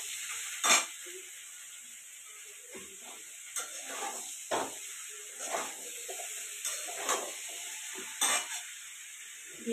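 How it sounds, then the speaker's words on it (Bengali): Potatoes for a jackfruit curry fry in hot oil with a constant soft sizzle and hiss, broken by scattered scraping stirs and clinks at uneven intervals, close and moderately quiet, with no talking. "এঁচোড়ের আলুটা ভেজে ভাজছি"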